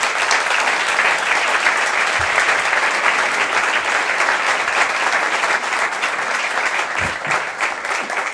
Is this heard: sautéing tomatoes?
no